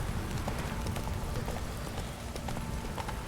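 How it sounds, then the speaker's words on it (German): Horse hooves clip-clop in a steady trotting rhythm as a rider fetches a mount in The Witcher 3, a continuous run of sharp, evenly spaced knocks with no talk over them. "Dafür hole ich jetzt nochmal mein Pferdchen."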